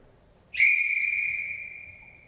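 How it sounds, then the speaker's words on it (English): A single sharp whistle blast starts a timed 60-second quiz round, ringing out loud and clear as one long steady tone that slowly fades, with no talking over it. "Right, on the whistle, when you're ready,"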